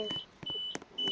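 A card tap-out gate at a station in a Roblox train game gives short, clear electronic beeps, repeated a few times within about a second.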